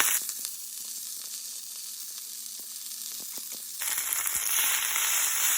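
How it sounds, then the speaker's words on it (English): Chopped spinach hits a hot skillet, with a light crackle first, then a loud sizzle that jumps up and holds, close by with no voices. "It's been 1 to 2 minutes and my skillet is hot. Now I will go ahead and put all the spinach which I had chopped earlier."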